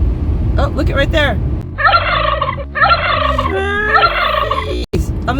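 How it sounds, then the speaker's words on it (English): Wild turkeys gobble by the roadside, several loud rattling calls in quick succession, close by, with a brief car sound at the end. "On the side of the road, there were 3 turkeys."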